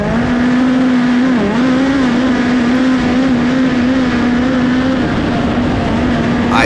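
Midget race car engine at sustained high revs while racing through traffic on a track, loud and close throughout with small pitch dips as it lifts and gets back on the throttle, no voices over it.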